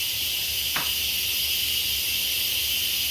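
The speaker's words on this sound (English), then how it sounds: "timer went off. I'm going to release the steam now." Steam releases from a pressure cooker as a steady, loud broadband hiss that holds unchanged throughout, with one brief faint click early on and no talking.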